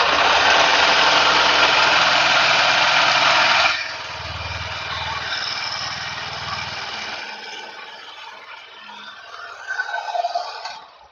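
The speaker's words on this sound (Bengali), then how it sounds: "তো এটা আমি আপনাদেরকে একটু সাউন্ডটা এক্সস্ট নোটটা শুনিয়ে দিচ্ছি।" A Honda SP125 motorcycle engine idling, its exhaust note a steady buzzing putter that is loud at first, then drops to a softer idle before a few brief revs near the end.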